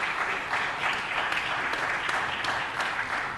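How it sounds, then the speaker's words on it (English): An audience at a city council meeting claps for a few seconds, a dense, even wash of applause in a large room. "I wanted to give them a round of applause to the LA Chamber of Commerce"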